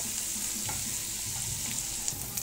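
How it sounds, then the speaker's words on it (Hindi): Onions sautéing in a hot pan for Indian-style macaroni give a steady, close sizzle with a few soft stirring clicks and light scrapes near the end, and no voices are heard. "अब हम प्याज डाल देंगे, अब इसे भी इसके साथ सौते करना है"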